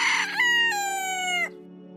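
A rooster gives a single loud, close cock-a-doodle-doo crow with a rising, sustained call that cuts off sharply, followed by a quiet, steady background hum.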